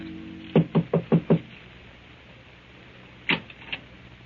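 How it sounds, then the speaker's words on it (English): Knocking on a door in an old-time radio drama: five quick, evenly spaced knuckle raps, a pause, then two or three more knocks, close and distinct over a quiet background. "Hans Minkler makes his way through the maze of Paris traffic and knocks at the door of number 16 Rue de Roche"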